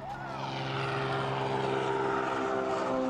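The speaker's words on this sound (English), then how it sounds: "On a float plane." Float plane propeller engine droning steadily and loudly close by, a constant hum with strong low harmonics and no pauses or talk.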